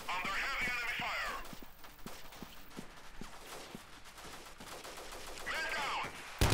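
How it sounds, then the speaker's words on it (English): Gunfire in a battle from the video game Freeman: Guerrilla Warfare, with rapid bursts of shots at moderate loudness under faint radio-style voices. "Under heavy enemy fire."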